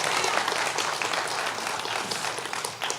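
An audience at a keynote speech at an alumni weekend applauds, a dense, steady wash of many hands clapping from a large crowd, sustained at even volume throughout.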